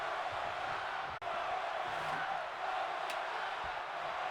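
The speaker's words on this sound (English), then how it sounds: "Crowd saying one more time." Crowd in the WWE 2K22 wrestling video game chanting in unison during a WrestleMania match, a dense, steady roar of many voices that fills the whole clip with one brief dropout.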